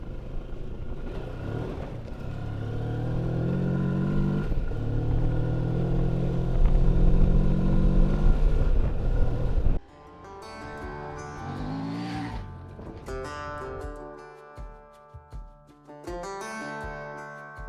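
Moto Morini X Cape 650 motorcycle ridden on a backcountry route, engine droning steadily under loud wind rush, then shifting to a closer revving and gear-changing sound with rising and falling pitch.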